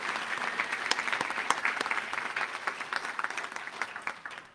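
An audience at a Developmental Disabilities Day event at the Legislature claps in a brief burst of applause, with uneven, lively clapping throughout.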